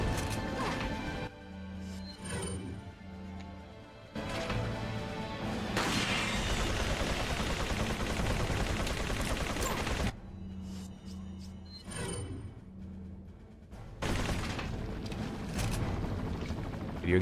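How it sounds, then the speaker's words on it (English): Shotgun blasts from Resident Evil 4, several loud booming shots spaced apart over a busy game soundscape with mechanical clatter between them. "Video game shotguns."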